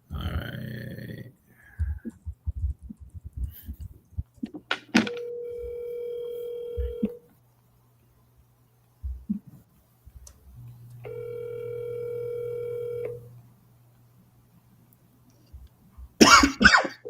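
An outgoing phone call rings back in two long, steady ringback tones with a pause between them, amid throat clearing, a cough and brief murmurs nearby.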